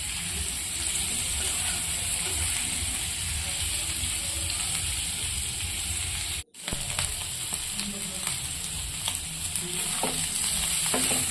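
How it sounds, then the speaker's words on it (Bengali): Small potatoes with turmeric and salt sizzle steadily in a hot pan as a spatula stirs and scrapes through them. The sound cuts out briefly partway through. "ভালো করে আলুগুলো নাড়াচাড়া করে নিচ্ছি"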